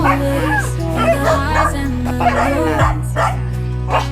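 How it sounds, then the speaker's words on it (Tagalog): Several pet dogs yip, bark and whimper excitedly in quick overlapping bursts, close and loud, over a steady low electrical hum with a pitch shift partway through. "Yan ang alaga ng kapatid ko ng aso."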